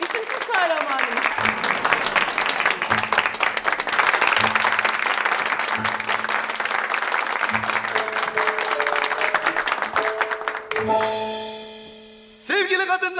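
An audience applauds an honored guest in a Turkish TV comedy scene, a continuous loud clapping crowd over rhythmic musical stabs and a swelling orchestral sting, with the music rising alone near the end.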